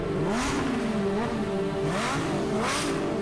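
A Lamborghini Murcielago, an Italian supercar with a 6.5-litre V12 making 640 horsepower, revs loudly and repeatedly up and down, its pitch sweeping as the engine climbs and falls in quick rises, close and alone.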